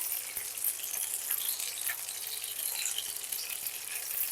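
A whole dried red chili splutters in hot oil left over from frying fish, a soft continuous hiss and crackle with faint pops, fairly quiet and steady.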